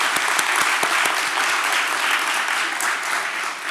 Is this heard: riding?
no